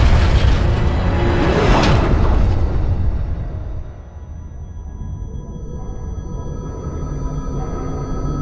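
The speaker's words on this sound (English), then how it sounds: "I'm going to have to make an emergency landing" A loud rumbling crash with a roaring impact burst, followed by a long churning, grinding rumble that gradually settles; an emergency crash landing in Halo Infinite.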